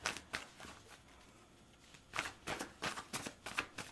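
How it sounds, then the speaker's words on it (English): Tarot cards being shuffled nearby in soft, papery flutters, a quiet lull, then a quicker series of riffles and taps toward the end. "I think I need to shuffle a few more times."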